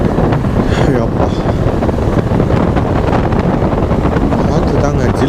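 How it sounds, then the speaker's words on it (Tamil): Cold wind blows steadily at an open-air cattle market in Vaniyambadi, Tirupattur district, a loud continuous rushing roar buffeting the microphone across the whole stretch. "காற்று தாங்க ஜில்லுன்னு அடிக்குது."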